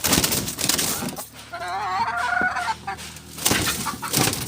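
Captive red jungle fowl give a short burst of clucking calls, close by and fairly clear. Louder rustling and handling noises come before and after.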